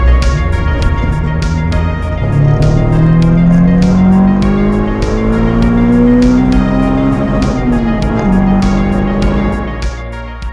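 A Honda Civic EK, fitted with new shifter bushes and detent springs, pulls away loudly on a road test drive, its engine revving up through a gear change and rising again, with a brief tyre noise near the end.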